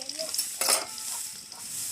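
Three garlic cloves hit hot oil in a pan while cooking lauki saag, giving a soft sizzle with a short burst of louder frying and stirring midway.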